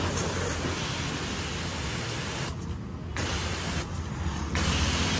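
A pressure washer with a 3 hp motor and 80 to 100 bar pump sprays water in a loud, steady hiss, cutting off briefly twice as the trigger is released, with the motor humming underneath.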